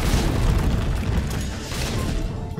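Rocket launcher blasts in Resident Evil 3 Remake on hardcore mode: a dense, continuous roar of booming explosions, loud and close, with heavy low rumble throughout and no pause between detonations.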